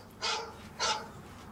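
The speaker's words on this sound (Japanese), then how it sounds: "着信音をあの犬の鳴き声に設定して。" A phone ringtone set to a dog barking plays two quick, clear barks about half a second apart, fairly close and loud, with no talk over it.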